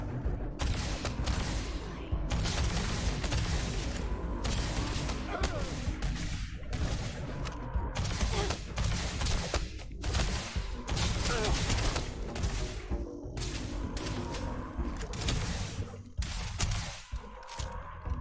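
Rapid bursts of gunfire in the space game Starfield, repeated sharp volleys and clustered shots firing almost continuously with brief gaps, fairly loud and close throughout.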